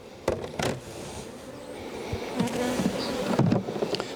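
Honeybees buzz steadily and close by during a spring hive inspection, a dense droning hum broken by a few soft knocks and taps.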